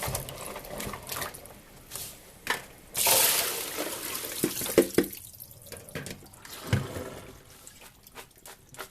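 Garlic cloves rinsed under a running kitchen tap: a steady splashing water stream with bursts of louder gushing and handling clatter, close by, with no talking.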